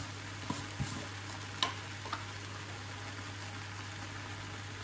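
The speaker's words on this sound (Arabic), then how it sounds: "كما كتشوفوا غادي نحرك كلشي هكا" Bulgur with red pepper and spices is stirred in a pan: a few faint, scattered spoon taps and scrapes over a low steady hum, quiet overall.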